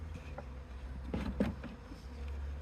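Honeybees buzz around an open hive during a spring check for queens and splits, a steady insect drone close by with a few louder passes of bees near the ear, no talking.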